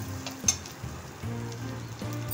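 Sweet corn kernels tossed and sautéed in a pan, a soft continuous sizzle with light scraping and stirring noises, brief pauses between tosses, quiet and close with no talking.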